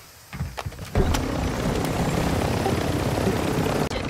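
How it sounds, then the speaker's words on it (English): Helicopter in a military shooter video game, a steady loud rotor drone that cuts in after a few soft thumps and holds near and continuous to the end, with no speech. "Take the chopper and rush it."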